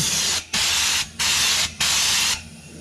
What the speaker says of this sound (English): So you can see this sprays fairly fine.